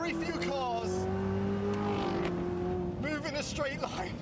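A Corvette ZR1's engine drones with a steady, loud rising note, then a few quick revving swells near the end, under continuous talk from people nearby.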